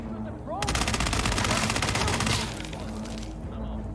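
Rapid automatic gunfire in a video game, a dense burst of shots lasting nearly two seconds over a steady game background, followed by quieter ambient noise.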